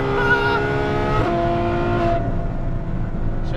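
A Novitec Ferrari F12 N-Largo V12 accelerates in fifth gear on the Autobahn, its engine note rising in pitch and then easing off as the car pulls away, loud and close throughout.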